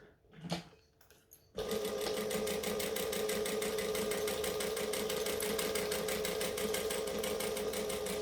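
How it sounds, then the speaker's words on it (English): Sewing machine stitching down the card slots of a wristlet, running steadily and loudly for about seven seconds with a fast, even mechanical rhythm after a brief quiet start with a few handling sounds. "With card slots, you always want to sew down the steps."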